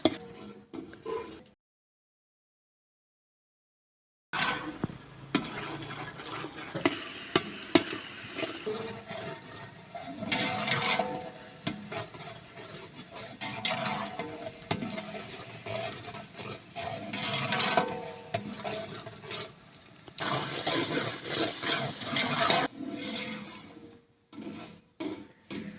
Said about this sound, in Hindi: इसमें प्याज, अदरक, लहसुन वगैरह, टमाटर ये डाल दिए हमने। इसको अच्छी तरह भून के